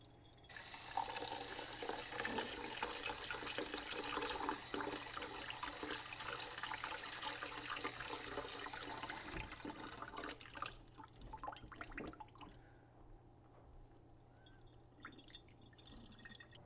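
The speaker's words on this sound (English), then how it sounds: "Just continue to rinse at least 5 times until it almost runs clear." Rice is rinsed under running water from a tap, a steady close splashing and pouring that stops partway, leaving faint drips and sloshing as the grains are swirled.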